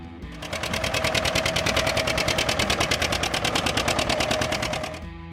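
A 1956 John Deere 720 tractor from Waterloo, Iowa, runs its engine with a fast, even, pulsing chug. The rapid popping beats build in loudness, hold steady for several seconds, then fade.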